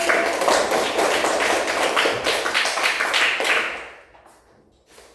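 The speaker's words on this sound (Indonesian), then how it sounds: "Tepuk tangan dulu buat ini." A class of students clapping hands together in a classroom, a loud dense burst of many claps with some rhythmic unison that fades out toward the end, leaving near silence.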